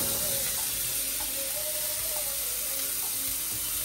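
Onion sizzling in a pan for a raw banana flower dish, a faint, even hiss that continues steadily with no pauses.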